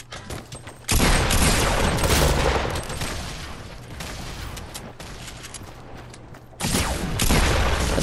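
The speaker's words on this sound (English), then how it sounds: "I thought that was you shooting" Heavy video game gunfire, a dense, loud fusillade of rapid shots and booms that bursts in after a brief lull, eases slightly, then surges again near the end.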